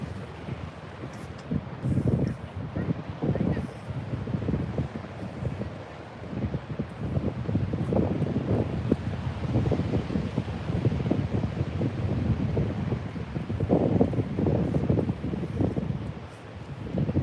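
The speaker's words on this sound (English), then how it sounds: "It's breezy" Steady breeze buffets the microphone on a sunny beach with a black sand strip, a continuous low rumbling roar with gusty swells, broad and unbroken across the whole stretch, with no voices.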